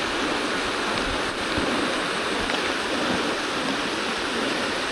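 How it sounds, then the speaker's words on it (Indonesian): The Trito Sari waterfall on a mountain hiking trail near Jobolarangan sends up a steady, unbroken rush of water, heard from some distance below with no one speaking. "Itu ada air terjun Trito Sari."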